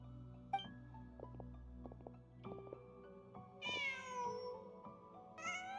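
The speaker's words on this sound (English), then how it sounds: "Just a cat." A cat meows in the video game Genshin Impact, two short rising calls near the end heard over soft game music.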